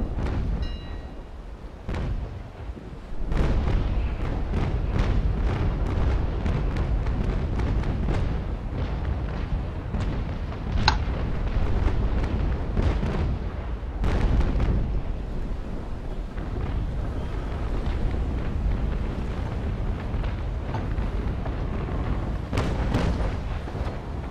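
Naval cannon broadsides in the sailing-ship battle game Naval Action, a continuous rumbling barrage of deep booms and cracks with repeated sharp shots, loud and dense throughout.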